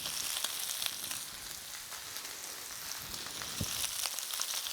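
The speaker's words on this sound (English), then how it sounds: "Like kind of frying a bit of lettuce." Lettuce frying in a pan gives a steady, bright sizzle with soft crackles and pops, continuous and fairly close, with no voices.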